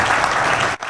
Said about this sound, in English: As the elder, give him a round of applause.